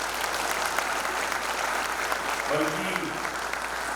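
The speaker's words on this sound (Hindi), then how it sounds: "ताली बजाएं" Audience applause at a university ceremony in Uttarakhand attended by the Governor and Chancellor, a steady broad wash of clapping that fills the whole stretch, with a speaker's voice briefly over it.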